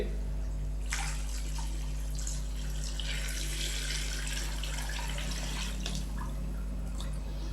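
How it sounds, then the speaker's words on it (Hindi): Water poured from a glass into a pot of rice for Kabuli chicken pulao, a close, splashy stream with intermittent bursts over a steady low hum. "तो अभी हम इसके अंदर पानी डालेंगे।"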